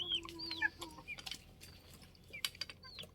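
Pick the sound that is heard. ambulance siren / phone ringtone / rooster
rooster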